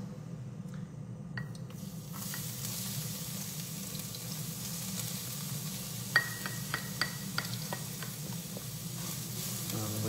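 Garlic and steak rice fry in a pan with a steady, moderate sizzle, a low hum underneath, and a few sharp scrapes and taps of a spatula partway through.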